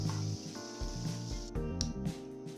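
Onion, tomato and green chili fry in hot oil for egg keema, giving a steady close sizzle and crackle that swells and eases in a few bursts.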